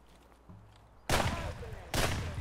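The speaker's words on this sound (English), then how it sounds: "I'm getting shot, and I don't know from where." Two loud bursts of rapid gunfire in the shooter game Escape from Tarkov, each a sharp volley from an unseen shooter, the second following close after the first, over faint background ambience.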